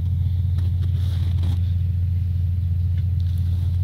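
Military BM-21 Grad rocket launcher trucks idle as their engines warm up before leaving a duty position, a steady low diesel rumble close by, constant and unbroken, with faint clicks over it and no talk.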